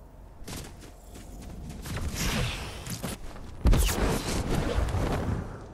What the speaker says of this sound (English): Did somebody just shoot me?